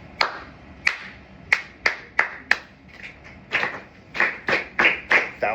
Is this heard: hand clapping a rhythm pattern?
yes